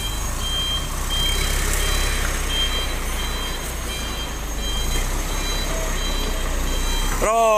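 A cement-loaded trailer truck reverses, its reversing alarm beeping in a regular pattern over a loud, constant diesel engine rumble close by.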